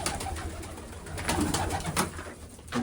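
Pigeons being fed grain and water coo faintly in low, throaty murmurs against a hissy background, with no voices present.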